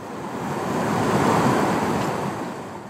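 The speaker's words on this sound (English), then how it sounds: "here we'll have a listen how powerful the waterfall is" Niagara's Horseshoe Falls, the most powerful waterfall in North America, gives off a steady, dense roar that swells slightly and then eases, filling the air like heavy surf with a little wind buffeting.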